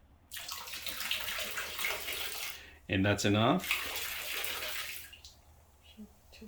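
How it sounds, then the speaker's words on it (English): Jetted bathtub running with tub cleaner added, a sustained rushing churn of water that swells and holds, with a person briefly speaking over it midway. "When you pour it into the bathtub, make sure you close the door and keep away from it because it's gonna cycle some water."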